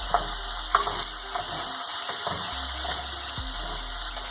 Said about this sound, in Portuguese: Com a cebola, dá uma mexida. Deixa ela fritar um pouco.